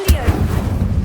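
A fire spell, Incendio, cast in the Hogwarts Legacy video game: a single loud, booming burst that flares up at once and then holds as a rumbling roar for about a second.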